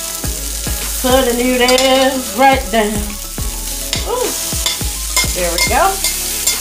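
Noodles sizzle in a hot pan with leftover Korean short-rib seasoning, frying steadily under repeated clattering stirs and scrapes, with a voice speaking briefly.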